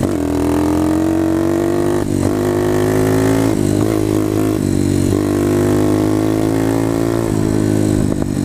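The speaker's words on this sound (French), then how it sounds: "Vous pourrez enfin ouvrir la poignée en grand." The engine of a new dirt bike revs hard with the throttle opened wide, a loud steady roar that rises in pitch across several pulls with brief dips between, close and alone.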